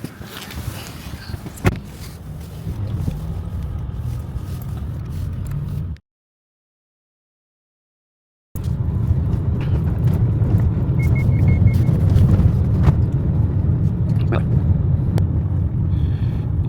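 A car drives along an access road near a house, its engine and tire rumble steady and close with wind noise on the microphone; the sound cuts out briefly midway, then returns louder.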